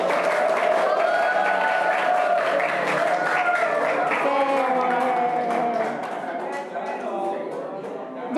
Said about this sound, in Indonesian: Jadi tepuk tangan untuk kelompok 1 dan 2 yang mendapat nilai 100.